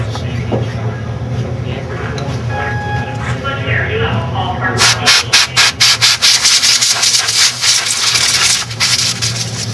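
Scrubbing and brushing at the cam track of a compound bow to clear out dirt and grit, starting as quieter rubbing and turning into a run of sharp, rhythmic scraping strokes close by.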